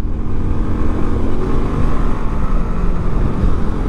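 A motorcycle engine revving hard, holding a loud, constant high-rev drone with a buzzing, harmonic-rich tone close to the listener and no talk.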